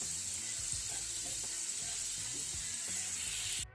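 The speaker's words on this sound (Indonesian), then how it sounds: "Kita goreng pakai minyak panas sampai selesai" Purple sweet potato steak frying in hot oil gives a steady, close, crackling sizzle that runs unbroken and cuts off just before the end.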